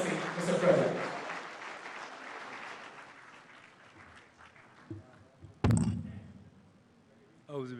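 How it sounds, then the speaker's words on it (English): An audience at an economic summit in Katsina, Nigeria, applauds the President as he declares the summit open, a full burst of clapping that fades over several seconds, followed by thuds and a voice speaking. "A standing ovation with a loud applause for him as he declares this summit open."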